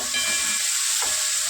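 Onions and a single green chilli sizzle in a hot pan, a close, steady hiss of frying that holds evenly for a brief moment with no voices.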